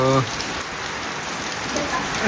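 The first monsoon rain falls steadily on surfaces in a village, a dense, even hiss of drops that holds throughout after a short tonal sound at the very start.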